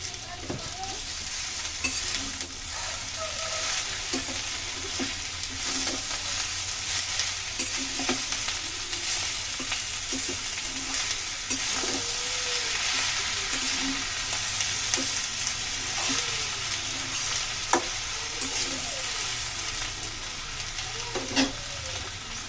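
Greens and eggplant stir-frying in oil in a pan for a Bengali begun chorchori with coconut, a steady close sizzle with scattered clicks and scrapes of stirring throughout, no voices.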